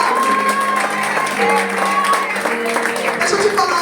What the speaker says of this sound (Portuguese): A igreja pode aplaudir de novo ao Senhor.